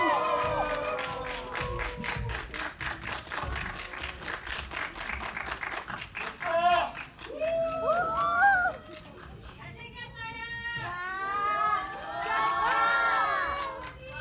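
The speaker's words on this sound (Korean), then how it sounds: "큰 박수 부탁드립니다" Cinema crowd at a Lotte Cinema World Tower guest screening cheers, claps and shouts as an actor enters, a loud continuous roar with excited high-pitched screams rising and falling, a host's voice briefly heard over it.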